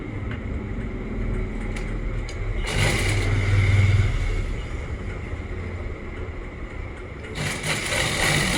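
A sewing machine runs steadily while stitching an Afghani pant, a continuous close mechanical hum with brief louder bursts, and no talking.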